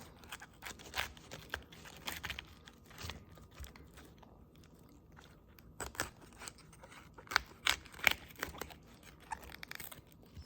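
Knife slicing the core out of a cauliflower head, with crisp, crunchy cuts and snapping bursts coming in irregular clusters, close up and fairly quiet between strokes.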